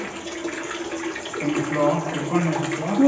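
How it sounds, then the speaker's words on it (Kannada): Water pours steadily from a pipe into a tank beside a well on a Wayanad hillside, a continuous close splashing rush while a person talks over it. "ನೀರು ಬೀಳ್ತಾ ಇದೆ ಸೊ ಇಲ್ಲಿಂದ ಪೈಪಿನ ವ್ಯವಸ್ಥೆ ಮಾಡಿದ್ದಾರೆ"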